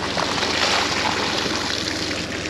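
Water gushes and splashes out of an irrigation pipe section being picked up from a field, a close, continuous rushing pour with no talk over it.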